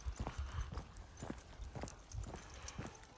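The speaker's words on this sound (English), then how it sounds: "Oh, Tula, another horse" Horse hooves clip-clop steadily on a hilly trail, a rhythmic run of hoofbeats heard close over outdoor background noise.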